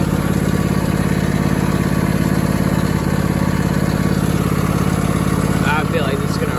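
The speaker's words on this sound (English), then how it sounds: "we're gonna try it on idling" An old junkyard Craftsman lawn mower, still running after 22 years, idles loud and close with a steady, even chugging drone and no break in the sound.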